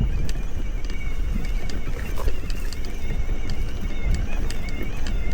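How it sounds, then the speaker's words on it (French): Steady broadband wind rush buffets the microphone throughout a mountain bike ride along a path beside the water in Sercus, continuous and fairly loud with no speech. "J'ai vu que le vent s'était quand même un peu levé."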